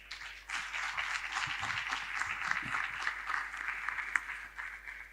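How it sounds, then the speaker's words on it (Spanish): Conference attendees at the Foro Madrid regional gathering in Asunción give a round of applause, a moderate, even crackle of many hands sustained for several seconds after a brief quiet start. "así que yo les pido un aplauso para ellos"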